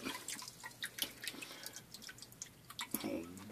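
Water drips and trickles steadily from a soaked palm leaf straw cowboy hat as it drains, a scattered run of close, light splashes with a fuller gush near the end.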